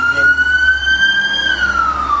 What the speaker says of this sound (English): That's a fire engine, by the way.